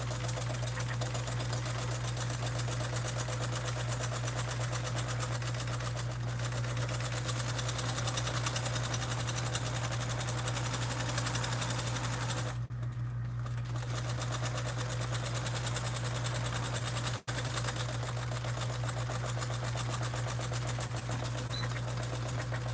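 A home sewing machine fitted with a larger leather needle stitches a bag seam at half-inch allowance, a steady fast mechanical whir with a constant low hum, pausing briefly midway before resuming.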